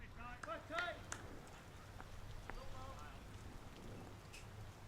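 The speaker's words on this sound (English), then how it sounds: "the rain had eased up for a moment, but now starting to fall with intensity again" Rain falls steadily with renewed intensity over an outdoor evening legion baseball game, a continuous broadband hiss running beneath a commentator's voice throughout.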